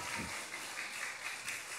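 Faint, distant clapping from children at an early-morning church service, a light quick patter that runs briefly without any talking over it.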